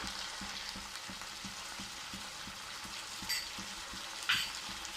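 Turmeric powder frying in oil in a pan for kadai paneer, a steady close sizzle with soft regular stirring scrapes and a couple of brief clinks, no voices.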